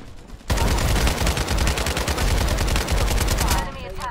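Shotgun fire in the video game Farlight 84 bursts into a loud, fast string of rapid shots that rattles on for about three seconds, then stops abruptly.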